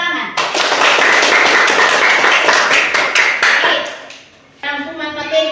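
Students in a classroom lesson clap together for two classmates, a dense burst of hand claps lasting about four seconds before fading out, with a voice starting to speak afterward.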